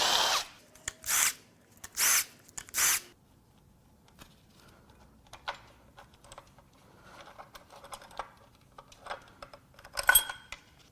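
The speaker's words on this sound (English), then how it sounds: "Now we're going to unbolt the cam gear." Power tool unbolting the cam gear on a failed Porsche Boxster S M96 engine during a teardown: four short, loud whirring bursts in the first three seconds, then quieter clinks and rattles of metal parts being handled.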